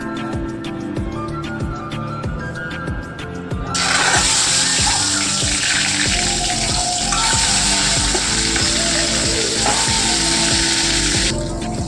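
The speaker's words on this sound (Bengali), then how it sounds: "ডিমটা ভাজা ভাজা হয়ে গেছে" Eggs fry in hot oil with turmeric in a home kitchen, first with steady crackling pops and then with a louder, broad hissing sizzle that stays close and continuous.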